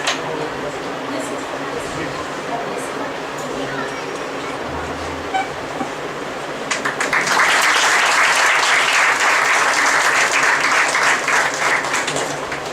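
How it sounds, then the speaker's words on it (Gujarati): Audience applause at an inter-college book review competition prize announcement, rising suddenly after a stretch of background room noise and a voice, then continuing loud and steady to the end. "તાળીઓથી આપણે બોલાવીએ."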